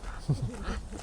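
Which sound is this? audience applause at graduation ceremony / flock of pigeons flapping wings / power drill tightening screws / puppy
puppy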